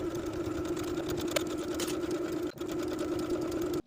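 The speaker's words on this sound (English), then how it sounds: "I'm just going to take it to my sewing machine and sew along this inner folded edge" A sewing machine stitches a pant hem along the inner folded edge, running steadily in a continuous mechanical whir, briefly pausing once before resuming, close by with no talking.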